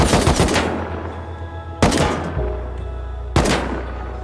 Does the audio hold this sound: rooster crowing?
no